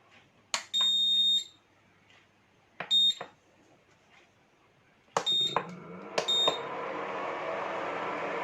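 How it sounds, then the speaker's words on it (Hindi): Induction cooktop switched on in a home kitchen, giving a series of sharp electronic beeps in short groups, some long tones and some quick pairs, ending in a steady faint hum. "तो अब मैं इंडक्शन को ऑन कर देती हूँ।"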